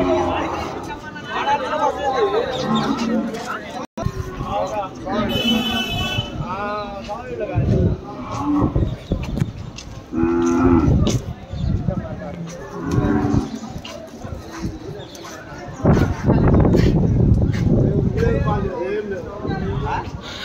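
Cattle moo repeatedly at a busy Telugu-region livestock market, the Kodada weekly santa, with calls near and far rising over a steady crowd hubbub and people talking throughout.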